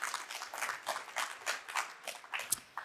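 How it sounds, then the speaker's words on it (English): Conference audience at Enterprise Connect 2024 applauding in a hall, a few seconds of rhythmic clapping in distinct pulses, moderately loud and without talk. "You can clap again."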